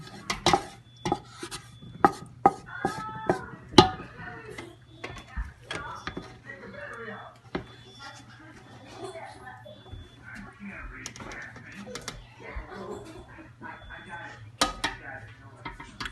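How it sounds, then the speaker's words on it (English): A small spatula scrapes pasta sauce for penne Alfredo into a pot, with sharp clinks and scrapes against metal at the start and people talking throughout. "You're going to take our little spoon or little spatula and we're going to scrape it all to the end."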